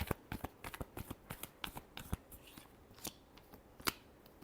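Tarot cards are shuffled in quick, crisp flicks and taps at close range, soft and irregular, with no one speaking.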